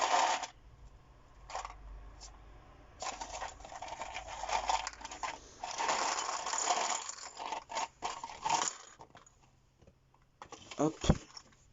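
A LEGO purchase package containing Ninjago figures and a small instruction booklet is handled and opened, with intermittent rattling, scraping and crinkling bursts and a few sharp clicks, close and fairly quiet.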